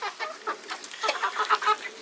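Hamburg chickens, a rare breed, give a run of soft, close clucks and short calls in quick irregular bursts, with no other sounds around them.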